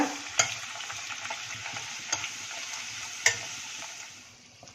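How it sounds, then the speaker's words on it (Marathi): A puri made from bhajani flour fries in hot oil over a high-to-medium gas flame, giving a steady, close hiss with a few sharp pops and spatters along the way. "यामध्ये आता एक पुरी सोडूया. हे पहिला एक बाजू तळून घेऊया."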